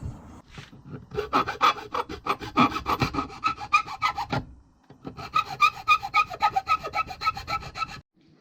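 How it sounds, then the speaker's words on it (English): Hand file rasping along the slots and edges of a metal plate for a BMW K100 motorcycle wiring job, two long bursts of quick, steady back-and-forth strokes separated by a short pause, close and fairly loud. "I'm just going to file those out so they're slots, and just do some tidying up, filing around the edges."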